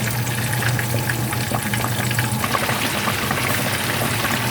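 Continuous bubbling and sizzling from a pot of pinangat na isda, a fish dish, on the heat, loud and close, steady without pause and with no voices.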